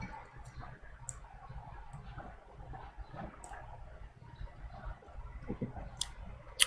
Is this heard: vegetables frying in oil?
no